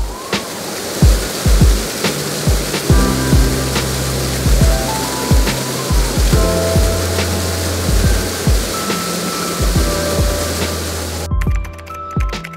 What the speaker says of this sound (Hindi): काफ़ी तेज़ बारिश आ गई एकदम से और फाइनली हम लोगों के रेनकोट काम आ गए